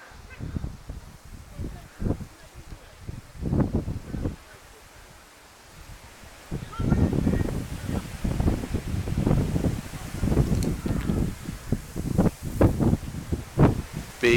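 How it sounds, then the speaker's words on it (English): Strong gusts buffet the microphone at an outdoor football ground during a match between Lutterworth and Coventry United, a rumbling, uneven wind noise that eases midway and then returns harder under distant crowd sounds. "The wind is atrocious here at Dunley Way."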